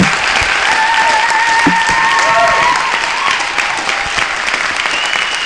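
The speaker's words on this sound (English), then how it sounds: "one last round of applause for Aung San Suu Kyi, please" An audience at a university lecture gives a sustained round of applause, a dense, loud wash of clapping lasting throughout, with a few faint voices mixed in.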